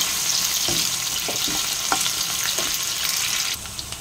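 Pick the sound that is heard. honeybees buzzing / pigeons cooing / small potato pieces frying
small potato pieces frying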